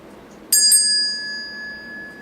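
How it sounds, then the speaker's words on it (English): A small meditation bell is struck once, close and clear, giving a bright ring that fades slowly into a long, sustained tone over quiet room ambience. "until you hear the small bell"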